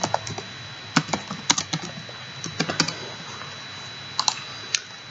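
Keys tapped on a computer keyboard while entering a text annotation in drawing software: irregular bursts of sharp, close clicks with short pauses between them, heard alone without talk.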